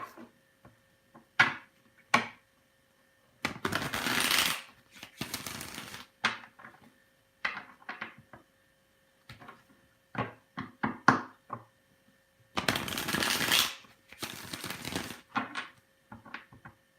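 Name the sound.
shuffling cards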